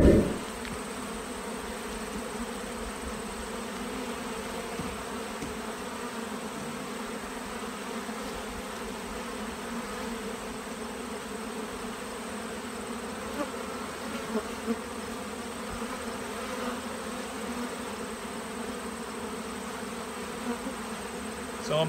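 Honey bees swarm and buzz around an opened hive during fall preparation for a Canadian winter, a dense continuous drone that holds steady and close for the whole stretch with no speech.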